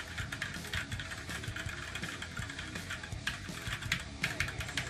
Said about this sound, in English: The key presses are quite loud.